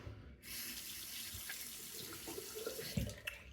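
Tap water runs steadily into a sink while someone rinses their face after a wet shave, a continuous close splash with a few brief louder splashes near the end.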